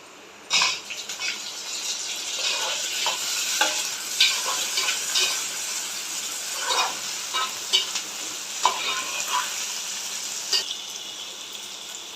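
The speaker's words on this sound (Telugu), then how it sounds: "ఉల్లిపాయలు అయితే బాగా ఫ్రై అయ్యింది ఇంక ఇందులోనే టమాటా ముక్కలు కూడా వేసుకున్నాం" Chopped tomato pieces and onions frying in a pan for chicken gravy curry, a steady sizzle broken by repeated scraping and clattering stirs of a spatula, close and fairly loud, with no speech.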